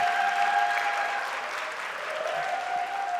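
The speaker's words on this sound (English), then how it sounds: "So just huge round of applause for everyone for being part of it." An audience at a startup demo day claps in sustained, dense applause, a steady wash of many hands close to the microphone, with no distinct voices rising above it.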